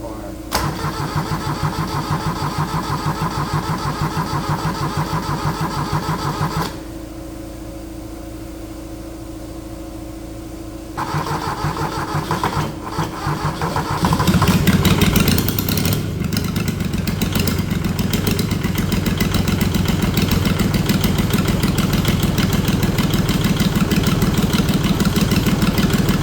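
Kubota D640 diesel engine fitted with a D722 head, cranking at first, then catching and firing into a loud, rough, rapid diesel chatter that settles into a steady run, close by.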